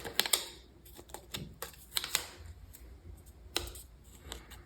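Scissors trimming a sheet of paper for a bullet journal page, with a series of short, sharp snips and crisp rustles scattered over several seconds, close and fairly quiet with no talking.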